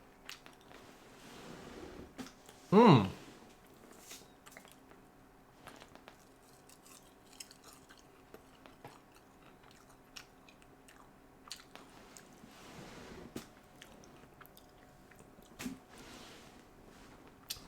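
Close, quiet chewing of a dry piece of fruit: soft squishy bites and mouth sounds run through the clip, with one louder burst early on.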